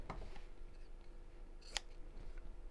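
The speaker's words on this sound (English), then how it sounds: "I'm just going to snip across the corners to cut down on the bulk" Scissors snip across the fabric corners of a sewn purse, a couple of quiet close cuts, one sharper metallic snip standing out, over a low room hum with no talking.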